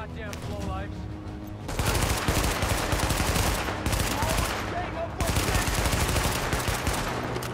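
Bursts of automatic gunfire from the game The Division, a Brooklyn combat scene, loud and dense with rapid overlapping shots running through most of the stretch, with game sound effects underneath.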